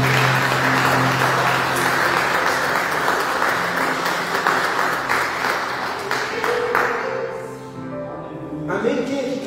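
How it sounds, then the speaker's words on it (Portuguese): A church congregation applauds during a fasting service, dense clapping filling the room with tonal instrument notes beneath; the clapping thins toward the end as the music carries on. "Aplauda o Senhor no teu lugar."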